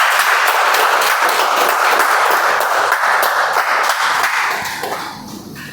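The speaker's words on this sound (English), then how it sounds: "Huge round of applause," Audience at a speech club meeting applauds a District 92 speech evaluation contest runner-up, a steady dense wash of clapping that carries on for several seconds before thinning out near the end.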